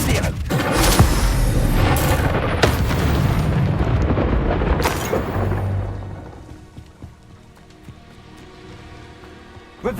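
An Incendio fire spell blasts in Hogwarts Legacy, a loud, roaring burst of crackling flame and impact lasting several seconds, then fading into quieter ambience with a final sharp hit.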